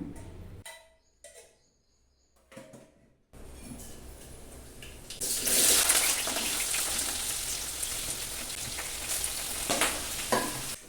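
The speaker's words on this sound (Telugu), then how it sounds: "స్టవ్ మీద ఒక సైడ్ సంగటికి పెట్టాను, ఇంకో సైడ్ కర్రీ ప్రిపేర్ చేస్తున్నాను." Curry cooks on a stove beside a pot of sangati. After a few quiet seconds with faint clinks, a steady rain-like sizzle starts and then swells louder, holding close and continuous to the end.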